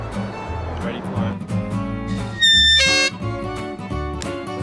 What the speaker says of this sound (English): This is threat one, the horn.